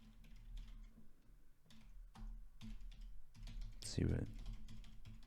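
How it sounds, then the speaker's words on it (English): Keyboard typing clatters in scattered bursts under ongoing conversation, with a louder thump near the end, during a casual podcast recording. "I can't even read what you're typing."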